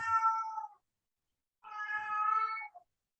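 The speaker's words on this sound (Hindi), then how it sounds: "बिल्ली आई हुई है।" A cat meows twice, each a clear drawn-out call lasting under a second, with a silent gap between them, close and alone.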